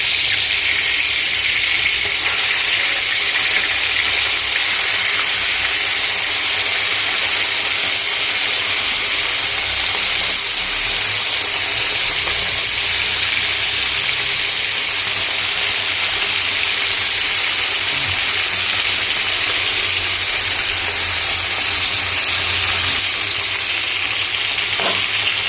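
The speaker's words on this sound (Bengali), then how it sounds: "তো আমার তেলটা গরম হয়ে গেছে। এখন মাছগুলোকে দিয়ে দেবো।" Fish sizzles steadily in hot oil for a fish curry, a loud, unbroken frying hiss that runs the whole time with no pauses.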